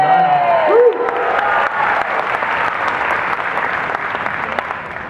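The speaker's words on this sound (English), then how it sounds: "One more round of applause for" Audience at the DragonCon 2018 Friday night costume contest applauds loudly with cheering and whoops, a dense crowd clapping that swells early and then holds steady before gradually thinning, with a brief rising tone near the start.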